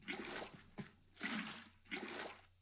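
Water being poured out in Minecraft survival, heard as three separate splashing, trickling bursts of liquid with short gaps between them, fairly quiet and with no voices.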